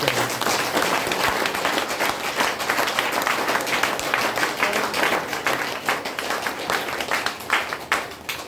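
Audience applause at a lecture, sustained dense clapping from a crowd for several seconds, fairly loud and thinning slightly toward the end.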